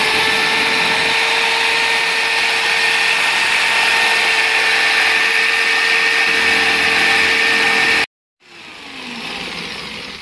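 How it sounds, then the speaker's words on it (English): A power jigsaw cuts a cupboard fascia board, a loud steady whining buzz for about eight seconds that stops abruptly, followed by quieter room noise. "It's really important that you keep your fingers out of the way of these jigsaw blades."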